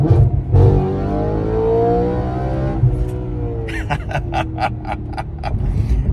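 An Audi RS5 accelerates at full throttle, its engine note climbing steadily through the gears with a brief break between shifts, loud and close, ending in a rapid series of sharp bursts.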